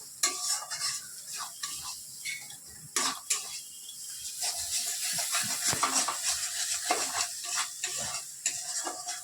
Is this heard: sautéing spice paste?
yes